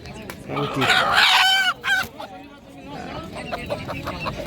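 A rooster for sale at an afternoon village market in rural Bangladesh gives a loud, close crow that rises and falls in harmonic bursts, with market chatter and other voices around it.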